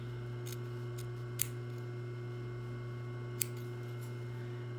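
Fabric scissors trim the seam allowance on a sewn collar, giving a few quiet, crisp snips spaced apart over a steady low background hum.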